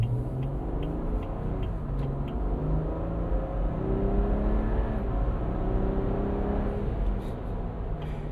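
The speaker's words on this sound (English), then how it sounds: "You hear the turbo blow off between gears." BMW B58 turbocharged engine in an Ineos Grenadier off-roader, a steady loud drive with revving through the gears; the brief turbo blow-off between shifts is not clearly picked out under the continuous engine rumble.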